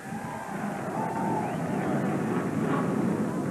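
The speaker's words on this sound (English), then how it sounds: "40 cars grumbling to life" Forty NASCAR stock cars start their engines together at the 1985 Winston Western 500, a dense, continuous rumbling roar carried across the track amid crowd noise.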